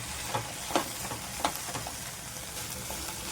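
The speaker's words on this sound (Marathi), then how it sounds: "आता आपण सर्व हे साहित्य परतून घ्यायचं आहे." Okra with garam masala and amchur powder sizzles softly in a pan, with several scraping stirs at irregular intervals. No one speaks.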